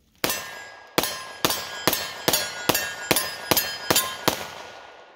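Ten sharp metallic clangs of pistol rounds from a Rock Island STK100 striking a steel 2/3 silhouette target at 10 yards, evenly spaced about half a second apart, each ringing briefly, with no talking.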